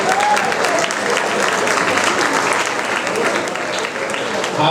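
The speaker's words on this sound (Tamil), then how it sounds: "கைதட்டுங்க கைஸ்" An audience at a film event claps for the editor coming on stage, a dense, steady burst of applause that fills the clip, with a voice faintly mixed in.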